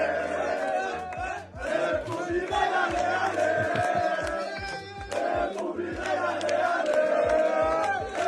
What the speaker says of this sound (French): une image dans laquelle une dame âgée est acclamée par les supporters